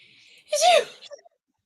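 A single quick sneeze, moderately loud and close, followed by a soft trailing breath.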